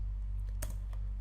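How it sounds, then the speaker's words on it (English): Computer keyboard typing comes as a few sparse, close key clicks, two sharper taps standing out over a low steady hum, with no talk. "Let me type that here, Mongo files."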